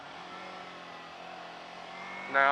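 A car in gear pulls back up to speed, its engine note droning steadily from inside the cabin before the revs climb sharply near the end.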